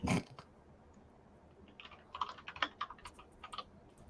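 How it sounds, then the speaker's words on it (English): Fingers type on a computer keyboard in a quiet room, one loud clack at the start followed by a soft, irregular run of key presses, close and unhurried, with no one talking. "Don't judge my typing, people."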